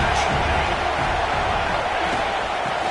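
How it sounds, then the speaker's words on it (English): A football stadium crowd roars as a steady, dense wash of noise, loud and continuous throughout, with no distinct voices standing out. "this crowd is turning it up a notch"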